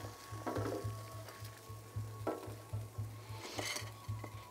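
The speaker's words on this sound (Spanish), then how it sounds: "vamos a preparar unos chiles criollos de mi pueblo. Bueno, entonces vamos a ponerlos a asar." Native criollo chiles roasting in a pan, with a low crackle and several brief bursts of sizzle over a steady, regularly pulsing background hum.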